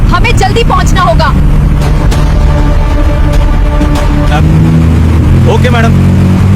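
Car engine droning loud and close while being driven fast, a continuous roar with people speaking over it.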